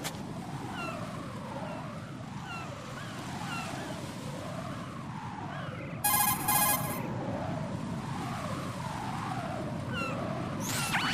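A cell phone in Metal Gear Solid 2 rings in a short, bright burst of electronic trills over a steady wash of surf-like ambience and a wavering low tone.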